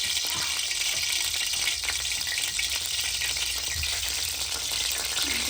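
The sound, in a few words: spice masala frying in hot oil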